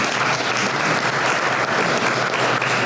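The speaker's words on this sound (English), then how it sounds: "So if we can all give them a round of applause as well." A crowd at an old-fashioned Fourth of July celebration gives a steady round of applause, dense and fairly close, continuing evenly throughout.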